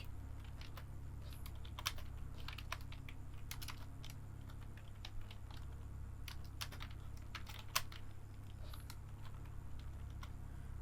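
Keys on a computer keyboard clack quietly in irregular bursts of typing, close but soft, with a few sharper single strokes over a low steady hum and no one talking.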